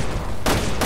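Rapid gunfire in the video game Resident Evil Revelations 2 comes as two loud, dense bursts within a second, set over a constant noisy background.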